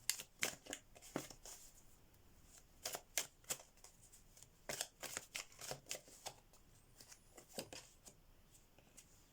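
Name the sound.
shuffling tarot message cards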